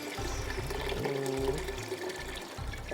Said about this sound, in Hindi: पानी और चाहिए होगा मुझे।